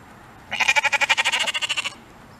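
A single sheep at feeding time lets out a long, loud, wavering bleat up close, lasting about a second and a half against a quiet background.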